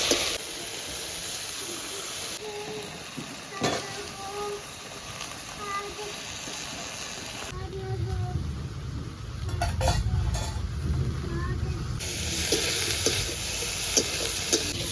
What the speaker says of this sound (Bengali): এবার খুব ভালো করে সিম আর আলুটা ভেজে দেবো